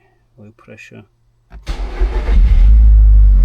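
A VW turbo engine swapped into an MR2 roars up loudly as the pedal is pressed, building to a sustained, heavy rev after a short stretch of talk over a faint idle.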